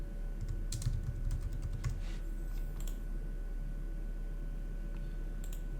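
Keys clatter on a computer keyboard in a quick close-up burst over the first two seconds, followed by a few scattered clicks, all above a steady low electrical hum.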